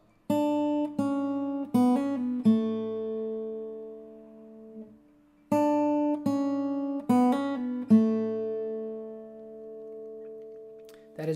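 Acoustic guitar plucked slowly, playing the first riff with the middle finger: two matching phrases of separate ringing notes with a pause between, each note left to decay, close and clear with no talking.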